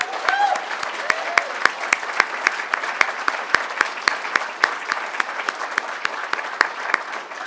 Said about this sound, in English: give MPWW instructors and mentors a huge round of applause